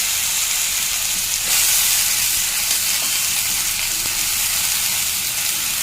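Onion, ginger and garlic paste frying in hot oil with whole spices for rohu fish kalia, giving a close, steady broadband sizzle that swells briefly near the start and holds loud throughout, with no talking.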